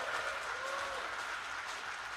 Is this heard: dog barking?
no